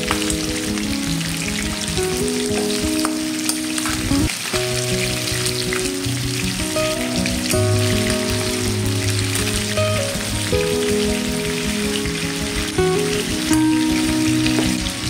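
Chicken fries in a pan toward golden brown for a Filipino ginataang manok dish, a dense, steady sizzle and crackle of spattering oil running continuously and close, with no talk.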